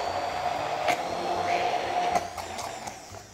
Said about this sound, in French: On va laisser refroidir et puis on va le mixer.